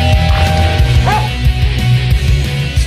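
A trained movie dog gives soft yips and whimpering barks under a continuous busy background of music and room noise, the dog sounds brief and mid-distance rather than loud and alone.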